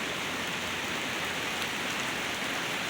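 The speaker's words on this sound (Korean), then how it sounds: "비가 지금 짱대같이 내리고 있어요." Heavy rain pours down outdoors on a wooded hillside, a loud, steady, dense hiss of drops with no break from start to finish.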